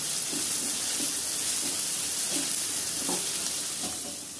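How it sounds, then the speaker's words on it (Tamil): Pan contents being sautéed while making rava idli, a steady hiss of frying with soft, evenly spaced stirring knocks, close and alone without talk. "இந்த வாசனை போகிற வரைக்கும் நம்ம வதக்கிறோம்"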